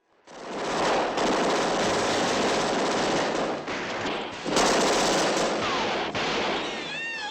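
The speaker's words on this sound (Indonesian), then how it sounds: "Baku tembak pun gak terhindarkan lagi." Dense, loud gunfire from a police shootout at night in the Bonnie and Clyde film, sustained rapid bursts of automatic and rifle fire rattling almost without pause for about seven seconds.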